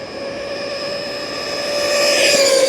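A homemade RC car speeds along a wide beach, its motor a steady high whine that rises in pitch and grows louder as it approaches, heard alone without talk.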